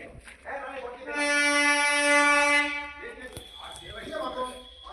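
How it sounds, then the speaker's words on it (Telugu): A loud train horn blares for about two seconds at Araku, with people talking nearby before and after it. "ట్రైన్ వచ్చేస్తుంది."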